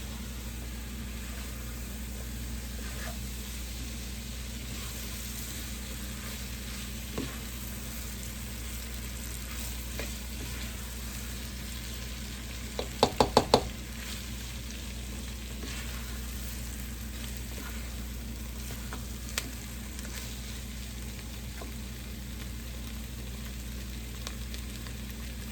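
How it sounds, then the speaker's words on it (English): A flour roux for chicken pot pie cooks in a pot while being stirred, giving a steady, soft sizzle throughout with a brief clatter of the utensil midway. "we're gonna cook this for about a minute just to take that raw flavor out of the flour"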